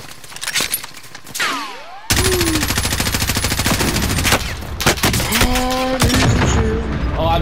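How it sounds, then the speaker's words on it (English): Rocket explosion and surrounding gunfire in a video game, with rapid continuous automatic fire, a few sharp blasts and pitch-sweeping effects, loud and close, voices talking faintly over it. "Oh, I just blew myself up with a rocket."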